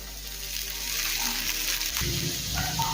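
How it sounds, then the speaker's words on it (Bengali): Soaked sabudana with boiled potato, carrot and roasted peanuts sizzles and fries in a pan while being stirred, a steady close hiss with scraping stirs and a louder burst of sizzling partway through. "সাবুদানা সবজির সাথে মিশিয়ে নেব।"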